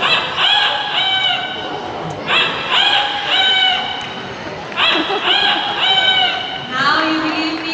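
An Amazon parrot imitates a rooster crow, giving three loud, close crowing calls in sequence with a fourth starting at the end, over faint background voices.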